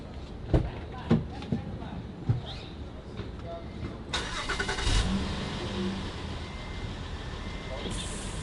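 A 2014 Honda Odyssey engine is started: a few clicks and thumps, then the engine cranks and catches partway through and settles into a steady idle, heard up close.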